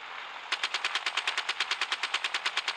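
A minigun in the naval combat video game Gunship Battle fires a rapid, evenly spaced burst of loud mechanical shots that starts after a brief hiss and continues steadily to the end.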